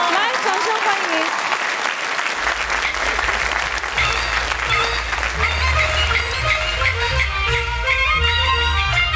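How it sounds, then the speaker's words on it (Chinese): A studio audience claps loudly and continuously to welcome a four-year-old Henan opera performer, with voices over the clapping and low music rising partway through. "来，掌声欢迎"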